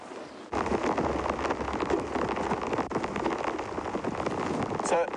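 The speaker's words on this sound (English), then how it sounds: "So the rain has stepped up quite a bit and there's a lot more coming" Heavy rain pours steadily onto a safari vehicle and the surrounding bush, a dense, loud roar that starts abruptly and holds constant to the end.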